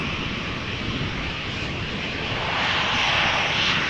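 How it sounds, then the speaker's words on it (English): A KLM Boeing 737-800 jet airliner at Amsterdam gives a steady, loud engine roar that swells slightly toward the end, heard alone. "Meanwhile, over here 737-800 KLM flight 1977"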